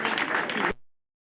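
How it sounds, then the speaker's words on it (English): Applause for a student named during the NIS Abuja 2025 school graduation ceremony, a dense burst of clapping that cuts off abruptly after under a second. "Zaki Haske, round of applause for him."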